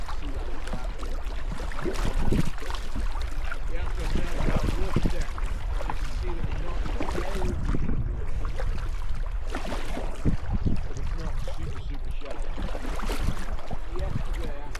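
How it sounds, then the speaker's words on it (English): Kayak paddling in Antarctic waters at Palavert Point, repeated splashing strokes and water washing in a loose rhythm under steady wind noise, with voices talking now and then. "I got a little bit of you paddling"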